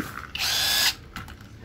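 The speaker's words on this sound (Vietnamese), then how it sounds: "em sẽ để mắc là 330 Newton và bắn vít cho mọi người xem nha" A DEKTON cordless impact driver set to 330 Nm drives a screw into dry, fairly soft wood, giving one loud half-second burst of rapid hammering whir, then a brief quieter trailing rattle.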